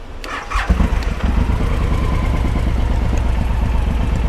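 A Suzuki M109R motorcycle engine cranks briefly and fires, catching within a second and settling into a loud, steady, lumpy idle close by, with no talk.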